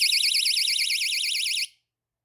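A Dollar Tree battery door alarm sounds a loud, warbling electronic tone that repeats for under two seconds, then cuts off into silence.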